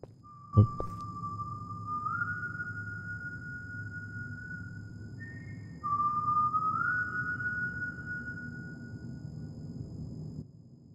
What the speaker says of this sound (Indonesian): Sumpah gua dengar orang bersiul